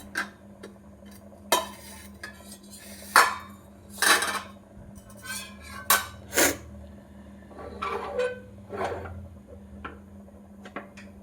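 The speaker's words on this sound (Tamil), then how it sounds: "அப்படியே குக்கரை லிட் போட்டு க்ளோஸ் பண்ணிவிட்டு சிம்மில் வச்சு" A metal pressure cooker lid is set on and clamped shut while mushroom biryani cooks, a string of separate clanks and clicks at close range over a low steady hum, with no voices.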